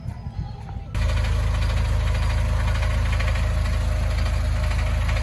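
After a second of low background noise, a loud amusement park train engine at Pleasurewood Hills starts idling close by, a steady heavy rumble with a regular throbbing pulse.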